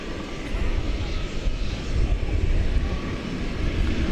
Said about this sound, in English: a 757-200. It will be going to Chicago Rockford International Airport